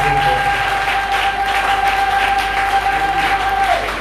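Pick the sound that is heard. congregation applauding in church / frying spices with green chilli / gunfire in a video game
congregation applauding in church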